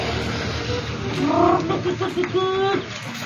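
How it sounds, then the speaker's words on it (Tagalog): Chickens cluck and call in short bursts over a steady background hum, with a couple of louder rising clucks near the middle and end. "Alagang manok."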